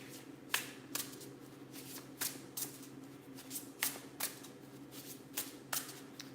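Oracle cards being shuffled by hand, with a steady series of crisp, soft riffling snaps about every half second, close and quiet with no talking.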